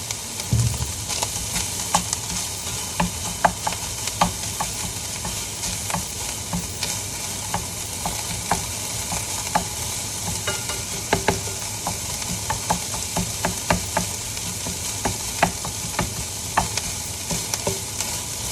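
Half an onion and 400 grams of ground beef frying in a pan: a loud, continuous sizzle runs throughout, dotted with clicks and scrapes of stirring, with no talking.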